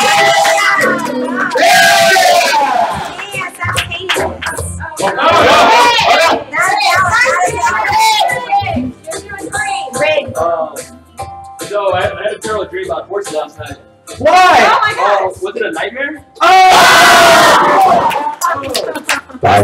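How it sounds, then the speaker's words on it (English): A game show audience cheers and shouts for contestants during a live talent round, loud and sustained with bursts of whoops and a host's voice cutting through. "Cheer them on, everyone!"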